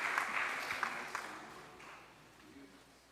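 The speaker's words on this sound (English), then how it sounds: "another round of applause" Audience applause after a song at a spiritual celebration, a fairly faint patter of clapping that tapers off over a few seconds.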